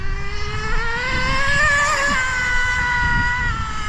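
A nitro Slash RC car engine screams at high pitch and wavers as the throttle changes, with a buzzing, continuous whine that rises and falls.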